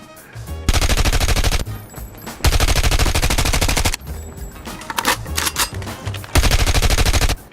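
The RUS-79U submachine gun fires in Call of Duty: Mobile in four loud, rapid full-auto bursts, each a second or so long, separated by short pauses.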